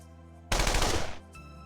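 A burst of rapid gunfire sound effect, loud and dense for about three-quarters of a second, then cutting off abruptly to a quiet background.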